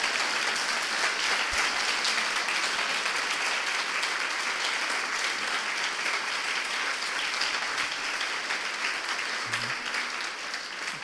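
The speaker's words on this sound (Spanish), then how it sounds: "Dale un aplauso al Señor" A church congregation at a Sunday service claps for the Lord, a full, steady wash of applause that holds throughout and fades a little at the end.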